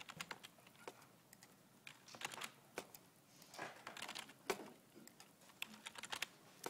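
Typing on a computer keyboard at a desk while entering quiz questions and answer choices into software, irregular clusters of soft key clicks, close and fairly quiet, with no talk.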